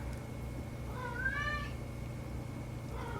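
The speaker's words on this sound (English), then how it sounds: "Is that your fucking cat?" A single domestic cat meows once, a short rising-and-falling call, faint and somewhat distant beneath the steady background noise of a podcast recording room.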